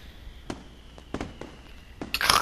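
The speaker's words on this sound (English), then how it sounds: "I thought fireworks were going off outside" Fireworks from the visual novel Katawa Shoujo: several sharp pops spaced apart, faint and distant, ending in a louder crackling burst.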